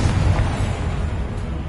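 A Confringo blasting spell explodes in the video game Hogwarts Legacy, heard as a short, dense, rumbling blast that stays loud and steady throughout, with no talking.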